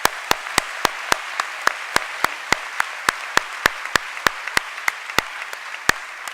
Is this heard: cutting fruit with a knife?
no